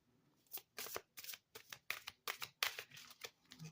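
Cards shuffled in quick bursts of crisp riffling for a daily manifestation card reading, about a dozen short flicks in an uneven rhythm, close and fairly quiet with no talking.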